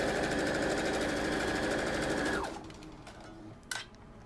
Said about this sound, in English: They get practice sewing by machine and by hand.